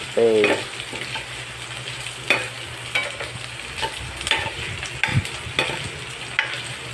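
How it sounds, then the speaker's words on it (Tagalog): Garlic and onion are sautéed in a pan for pakbet after the pork has browned, a loud close sizzle broken by repeated scraping stirs of a spatula, with no speech. "Add na po natin yung ating bawang at sibuyas. Ayan po, haluin natin. Sauté."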